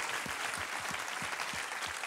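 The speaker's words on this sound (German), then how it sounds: "Ein riesengroßer Applaus geht raus für alle, die das auf die Beine gestellt haben." A large concert crowd gives roaring applause to thank the production crew, a thick, continuous wall of clapping and cheering with a few deeper thumps pulsing through it.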